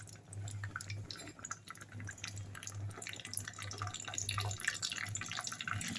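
Mustard seeds splutter in hot oil in a pan, set to fry dried fish: a soft, continuous crackling and popping with a faint, pulsing low hum underneath, fairly quiet throughout.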